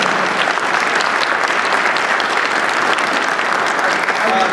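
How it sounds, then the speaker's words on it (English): A loud, steady wash of applause from a conference audience at a journalism panel, continuous and dense throughout, with voices mixed faintly into the clapping. "Can we get a round of applause, please?"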